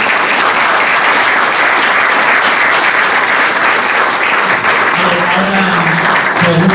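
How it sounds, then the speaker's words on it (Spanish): Loud, sustained applause fills the room at a Rioja wine book presentation, steady throughout, with a voice beginning to speak over it near the end. "esta despedida yo creo que se merece un aplauso"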